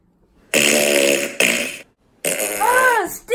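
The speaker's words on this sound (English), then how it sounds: "fart tricks always work" Loud, close fart noises from a pull-my-finger prank come in three bursts: a long buzzy blat, a shorter one, then a final drawn-out one with a wobbling, sliding pitch.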